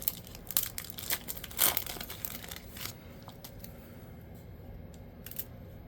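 Thin 1996 Fleer Ultra foil card packs being torn open and crinkled up close, with sharp ripping bursts in the first three seconds fading to light, sparse rustles.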